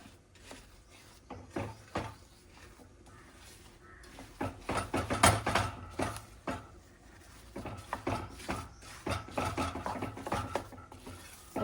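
A spoon scraping and stirring a sticky jaggery mixture in a pot at a farmhouse kitchen, with irregular quiet rubbing and clinking strokes, soft and close, no talking.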